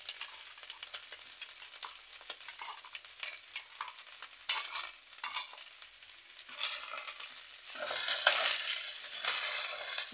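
Onion frying in a pan while being stirred with a spoon, a crackling sizzle broken by repeated scraping strokes, growing louder and hissier toward the end, with no voices.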